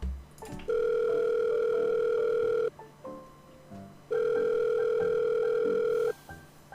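Phone call ringing out unanswered: two long electronic ring tones, each lasting about two seconds, separated by a pause, clear and close with faint background noise between them.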